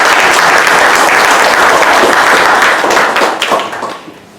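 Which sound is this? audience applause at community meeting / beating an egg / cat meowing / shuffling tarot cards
audience applause at community meeting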